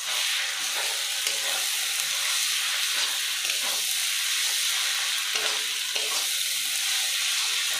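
Garlic and ginger paste frying in a pan for a Bengali mutton curry, a steady close sizzle and hiss with occasional scrapes of stirring throughout, no talking.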